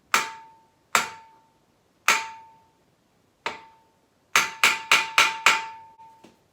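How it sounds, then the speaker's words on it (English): A hammer strikes metal while tapping a brake disc into place on a car hub, giving bright, ringing clangs: several spaced single hits, then a quick run of five rapid blows and two lighter taps. "stick this sucker on there, and just start tapping it right here with a hammer"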